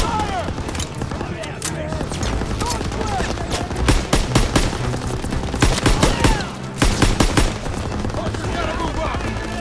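Dense machine gun fire and scattered gunshots from the World War II shooter Call of Duty: WWII, in a bunker assault on Hill 493, rattle continuously with louder bursts midway, while shouted voices call out orders over the shooting.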